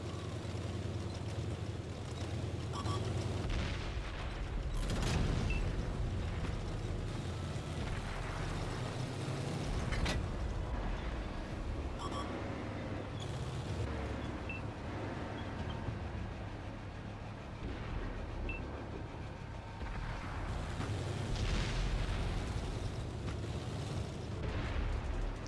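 Tank guns fire during a World of Tanks console battle, with a Lycan T71 light tank in a Halloween match. Heavy booms and blasts land at irregular intervals over a constant rumbling battlefield din.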